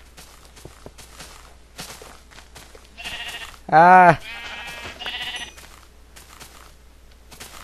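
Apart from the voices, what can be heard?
sheep bleating in Minecraft video game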